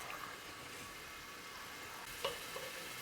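Vegetables beginning to fry in a pan while pasta and potatoes are being made, a faint steady sizzle with one brief clink partway through.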